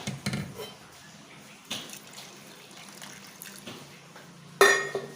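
Cold water splashes and runs over chopped radish leaves in a sink or bowl, with a louder gush near the end and quieter trickling and handling sounds between.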